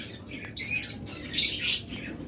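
A pair of opaline budgerigars in a cage giving a few short, bright squawking calls in two bursts, close and moderately loud, no talking.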